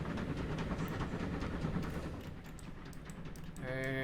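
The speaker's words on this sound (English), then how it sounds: "two passenger trains coming in" Two passenger trains in Transport Fever 2 roll into a station in an 1890s setting, giving a steady low rumble with faint rhythmic clatter under a quiet voice, before a tonal chime or whistle at the end.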